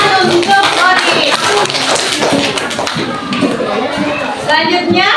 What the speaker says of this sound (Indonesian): Berikan tepuk tangan untuk Lori.